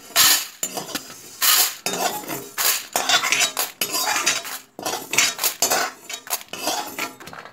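A metal spoon scraping and clinking against a pan while toor dal is stirred and dry-roasted, rapid rhythmic bursts of scraping and rattling, close and loud with short pauses.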